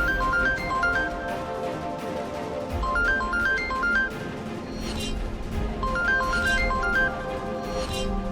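A phone rings with an incoming call in a tense domestic TV drama scene, a repeating electronic ringtone melody cycling in steady phrases, loud and close, with no talk over it.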